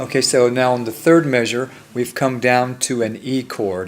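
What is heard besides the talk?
No distinct noise like a dog, phone or traffic.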